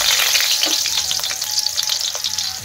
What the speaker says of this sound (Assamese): প্ৰথমতে আলুকেইডোখৰ ফ্ৰাই কৰি ল'ম।